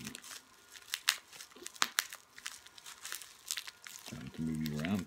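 A taped-up mail package of trading cards is unwrapped nearby, with repeated crinkling, tearing and crunching of tape and packaging in quick bursts; a voice speaks briefly at the end.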